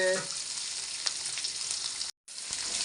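Chopped onion frying in hot oil while a squid curry is being cooked, giving a loud continuous sizzle with a few stirring scrapes and a very brief gap of silence near the end.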